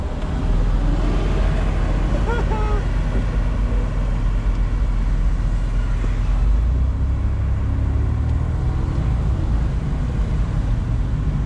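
A 1996 Saab 900SE V6 convertible drives along with a steady low engine and road rumble, constant and fairly loud throughout, with wind and tire noise and faint voices now and then.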